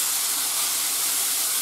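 Mushrooms sizzle in a hot frying pan while a pork roast with cream cheese and wild mushrooms is prepared, a steady, close, bright hiss with no breaks and no voices.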